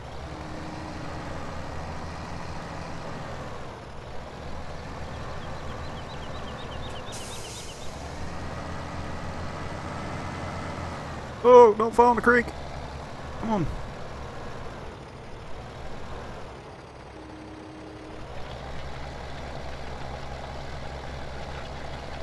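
A tractor engine in Farming Simulator 2017 idles as a low, steady drone across the whole stretch. A person talks over it, and there is a brief clatter in the middle.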